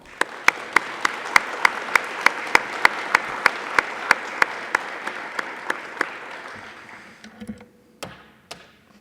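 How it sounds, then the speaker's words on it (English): An audience applauds the judges at a youth of the year celebration, dense clapping overlaid by a steady run of sharp, regular taps, then thinning to scattered claps and thumps near the end. "Please join me in giving our judges a round of applause."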